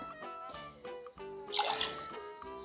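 Honey ginger syrup is poured into a glass for a hot toddy. Soft drips and a short trickle of liquid sound up close, mixed with a background tone.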